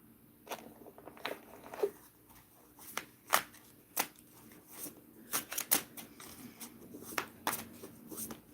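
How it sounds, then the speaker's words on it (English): A deck of cards is shuffled close by in a quiet room, sharp riffling snaps and crisp clicks repeating irregularly over several seconds, with no voices. "I am shuffling like mad here."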